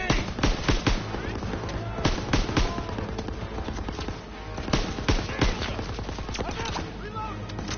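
Machine gun fire rattles throughout a Call of Duty WWII battle, rapid bursts and single cracks overlapping almost without pause, loud and close, with shouted voices mixed into the gunfire.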